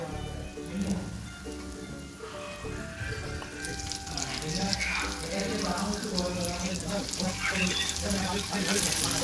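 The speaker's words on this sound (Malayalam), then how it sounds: "ഇതുപോലെ ബാക്കിയൂടെ നമുക്ക് ഫ്രൈ ചെയ്തെടുക്കാം" Snacks sizzling steadily in hot oil in a home kitchen, with a continuous crackling hiss that swells and stays loud throughout.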